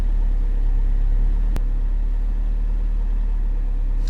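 The 1.6-litre fully forged engine of a Mazda MX-5 Mk1 idles steadily with a low, even rumble and a faint click partway through, running alone with no voices.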